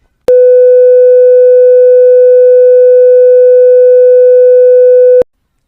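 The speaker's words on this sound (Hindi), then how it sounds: "तो अभी आपने जो फ्रीक्वेंसी सुनी वो 300 हर्ट्ज की फ्रीक्वेंसी थी" A steady pure 300 Hz test tone sounds alone at high level, holding one unbroken pitch for about five seconds with abrupt start and stop and a few faint upper harmonics.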